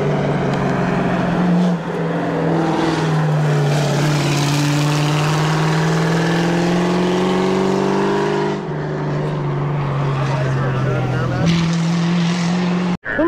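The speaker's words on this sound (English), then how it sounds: "Oh my god, it's a GTR!" A GTR engine at a hill climb is loud and near, with its pitch climbing and holding through a long pull, then dropping and rising again. Voices can be heard faintly underneath.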